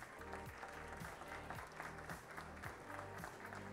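Steady applause from an audience fills a formal award ceremony of a municipal legislative session, a continuous wash of clapping hands with no talk over it.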